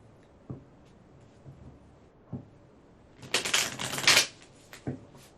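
Tarot cards are shuffled and pulled, starting with a few soft isolated taps and slides, then a brief burst of quick riffling clatter midway, followed by another light tap, close and fairly quiet.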